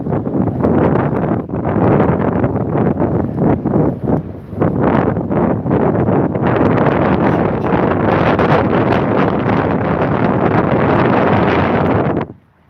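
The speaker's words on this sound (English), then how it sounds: "it is windy a little bit" Strong wind buffets the microphone in loud, continuous gusts on a warm 84-degree day, with short dips before roaring steadily again until it cuts off.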